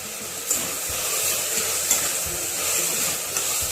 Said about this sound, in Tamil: ஒரு 5 மினிட்ஸ் நல்லா வதக்கிக்கலாம்.